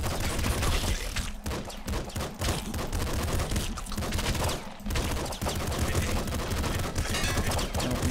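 Gunfire from the Nuclear Throne video game comes as dense, rapid, loud bursts of shots with barely a pause, layered over busy game sound.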